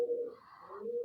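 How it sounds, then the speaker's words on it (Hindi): Pigeons coo softly in the early morning in one short, low, rolling call that rises slightly and then settles, heard alone with no talk. "कबूतर है तो वो इस तरह से बोलते हैं सुबह सुबह"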